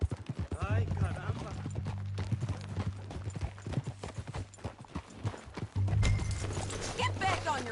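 Horse hooves clip-clop at a steady walking rhythm in the Red Dead Redemption 2 video game, arriving at a jailhouse, moderately loud beside game voices and a low musical drone.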